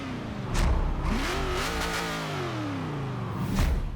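A Ford Falcon XR8 in Forza Horizon 3 revs hard, its engine note sweeping up and down in a steady, continuous drone with a couple of sharp bursts at the start and end.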